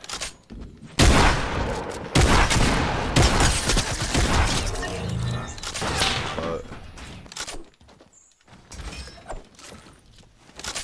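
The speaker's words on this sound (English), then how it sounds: "He was just shooting at us, obviously." Rapid gunfire in a Fortnite Battle Royale solo match, loud sustained bursts up close that fade toward quieter sounds near the end.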